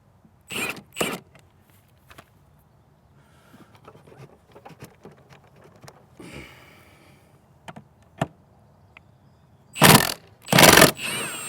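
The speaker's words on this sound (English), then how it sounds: "This is a Milwaukee Fuel brushless impact wrench." Two loud bursts from a Milwaukee Fuel brushless impact wrench, one early and a stronger pair near the end, rattle against a mower blade bolt, with scattered clicks and handling noises in between.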